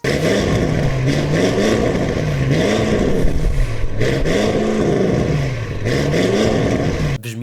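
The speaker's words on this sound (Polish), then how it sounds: "silnik na postoju kręci się do około 4000 obrotów" Audi RS6 C8 with an MG Motorsport valved exhaust revving at standstill to about 4000 rpm, the engine note rising and falling in repeated wavy blips, loud and close, with no talking.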